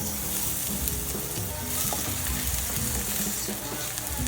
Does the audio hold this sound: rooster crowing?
no